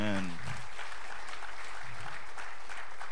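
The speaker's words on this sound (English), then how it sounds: "Now, if that's a clap for me," A church congregation claps during a live-streamed Sunday service. A voice speaks briefly at the start, then a full, steady round of applause carries through to the end.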